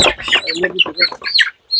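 Chickens cluck close by in quick, choppy bursts of calls, with a short pause near the end.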